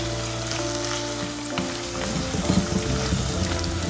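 Okra, or ladies finger, frying in hot oil for a Sri Lankan curry, a continuous close crackling sizzle with bursts of spattering toward the end, no talking.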